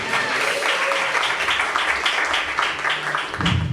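A congregation applauds steadily, a dense wash of many hands clapping at a fairly loud, even level throughout.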